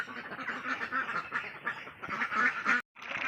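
Several Thai ducks, four months old, quack in a busy continuous chorus of rough, repeated calls close by, broken by a brief silence near the end.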